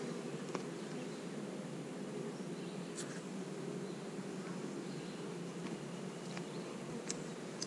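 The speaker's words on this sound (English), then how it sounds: "A lot of bees on that frame." Honey bees swarming a hive frame during a beekeeping inspection, a dense steady buzz close by with occasional louder individual bees passing near, continuous throughout with no talking.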